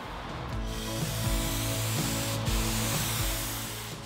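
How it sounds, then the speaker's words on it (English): Compressed air hisses from an air chuck as sanding dust is blown off a lacquer finish, a continuous broadband spray with faint low rumbling underneath and no talking. "I'll remove the dust with my air chuck and a clean paper towel."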